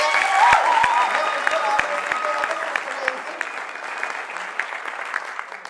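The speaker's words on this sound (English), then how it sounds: "Let's give Lindsay a round of applause" An audience applauds for Lindsay at a comedic roast led by the character Sister Myotis, steady clapping filling the room with a few sharper claps at the start and faint voices mixed in.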